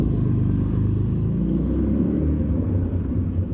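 A Porsche drives past at a shopping centre, giving a loud, continuous low engine rumble that stays close and strong across the whole stretch, with no talking.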